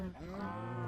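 A single drawn-out cow moo from the blocky sandbox game Minecraft, close and clear with a rising then steady tone lasting under a second.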